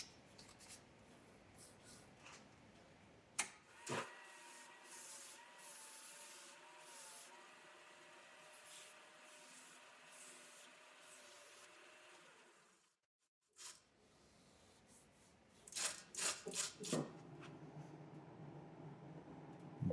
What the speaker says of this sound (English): We're back at the lathe, and I'm doing some basic sanding.